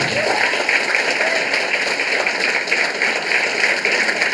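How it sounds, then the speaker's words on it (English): Audience applause in a pharmacy college hall, a steady even patter of many hands clapping at moderate loudness, with a constant electronic hum running underneath. "And a big round of applause."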